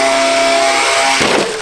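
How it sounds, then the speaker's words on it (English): A Traxxas XRT RC truck's electric motor whines steadily, then ends in a sudden broadband thud as it crashes bumper-first, close and alone without speech. "Pretty solid bumper hit"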